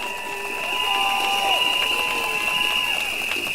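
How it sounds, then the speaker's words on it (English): A large outdoor political rally crowd in Choa Chu Kang cheers and claps loudly and continuously, with a sustained tonal drone, likely from noisemakers, running through the whole crowd noise. "A big round of applause."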